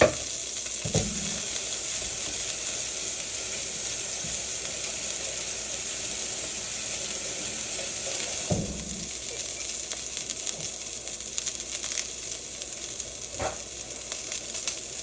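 Steak frying in a pan, a continuous bright sizzle with soft crackles and a few brief clunks of the pan or utensils.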